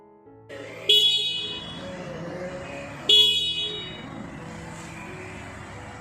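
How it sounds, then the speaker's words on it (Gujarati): A Bajaj Freedom 125 CNG motorcycle sounds its single horn twice, each a loud, close, bright honk of about two seconds, separated by a short pause. "હું તમને હોરન ને એવું ચાલુ કરીને બતાવી દઉં। Single horn"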